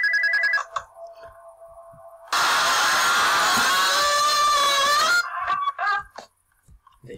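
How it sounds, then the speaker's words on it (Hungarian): A telephone rings in the horror game Spooky's House of Jumpscares: a short electronic tone, then a loud, sustained burst of harsh ringing lasting about three seconds before fading into scattered faint noises. "Megint a telefon."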